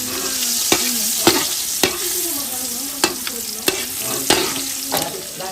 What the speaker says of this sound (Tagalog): Prito muna natin siya.